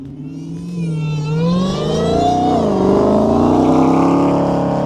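A loud 2018 Dodge Demon engine revs up hard, its pitch rising and dipping and rising again in a sustained, aggressive roar close by.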